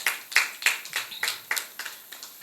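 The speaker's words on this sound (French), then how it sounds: "Sous vos applaudissements, s'il vous plaît." A small studio audience at a French interview programme applauds with a sparse, steady run of separate claps, a few hands at most, moderately close and fading slightly over a couple of seconds.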